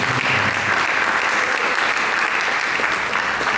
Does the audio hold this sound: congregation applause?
yes